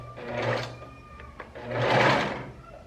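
A sewing machine stitches a very narrow hem on a puff-sleeved blouse, running in two close, steady whirring bursts separated by a brief lull with a small click.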